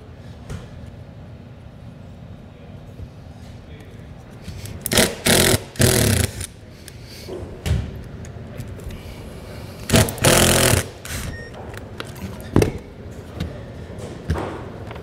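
A power driver with a square bit backs screws out of an RV roof vent on a 2021 Sunset Park Sunray travel trailer, in several short, loud whirring bursts separated by pauses over quiet outdoor background.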